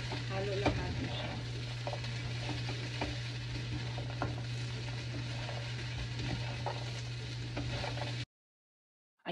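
Valenciana rice being stirred in a frying pan, a steady close sizzle with scattered scraping clicks of the spoon running throughout, then cutting off abruptly near the end.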